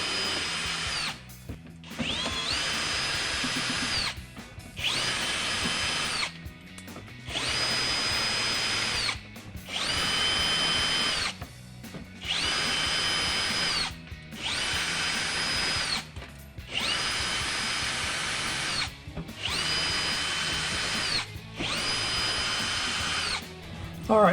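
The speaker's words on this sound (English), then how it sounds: "now that we've got the rivets out of the way, we can take our 10 7mm machine screws out here." Power drill backing ten 7mm machine screws out of a carbon fiber front splitter on a 2014-2019 Corvette, in about nine sustained whirring bursts separated by short pauses, close and loud, with no talk.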